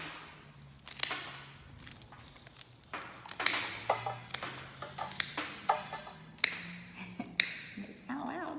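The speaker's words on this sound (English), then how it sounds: "I'm going to cut my stems" Flower stems being cut to one length for a European hand-tied bouquet: a quiet, irregular series of sharp snipping clicks and taps, with no voice over them.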